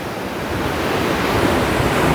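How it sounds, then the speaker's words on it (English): Wind blowing in across Haulover Inlet against strong outgoing tidal currents and choppy water, a loud, steady rushing roar of surf and wind buffeting the microphone, with no voices. "Right now we got a wind that's blowing in and water that's going out. So you get some crazy chop."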